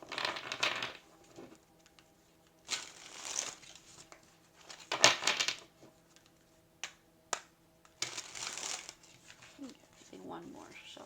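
A deck of tarot cards is shuffled in several brisk bursts of riffling, close and quiet, separated by pauses, with faint talk toward the end.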